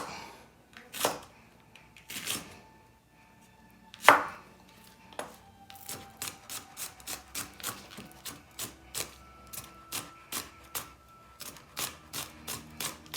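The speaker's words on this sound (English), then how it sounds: "So we got some diced up jalapeno here." A knife dicing jalapeno on a cutting board, starting with a few spaced heavy chops and then settling into a steady, rapid rhythm of crisp close knocks.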